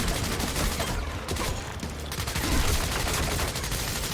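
Video game gunfire in Quantum Break rakes toward the player in dense, overlapping bursts that stay loud and close throughout, a steady barrage with no pauses and no voices.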